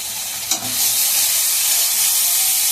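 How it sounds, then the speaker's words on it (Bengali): Pumpkin greens with prawns, chilli paste and turmeric fry and get stirred in a pan, giving a loud steady sizzle with one brief scrape of stirring near the start. "ভাজা ভাজা করে শাকগুলো দিয়ে দেবো"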